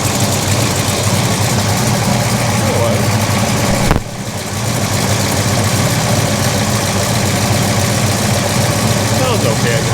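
A big-block Chevy engine in a Pontiac idles steadily with a rough, noisy rumble from an exhaust leak at a damaged gasket, briefly dipping about midway before settling back into its constant drone.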